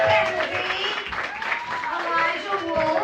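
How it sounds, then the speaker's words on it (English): An audience at a live storytelling game show applauding, a steady wash of clapping with someone talking over it throughout. "big round of applause for Vanessa Lorenzo"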